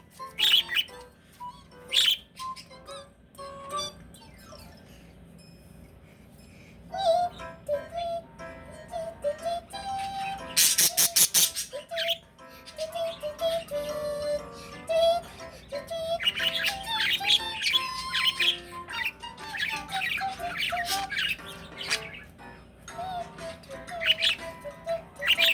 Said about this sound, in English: now will sing some bird songs